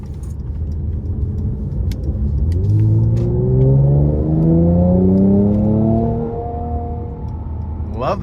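A 2023 Mercedes-Benz C43 AMG coupe with a 3.0-litre twin-turbo V6 pulls hard out of a corner, its engine note rising steadily in pitch and loudness, holding a strong drone, then easing off near the end.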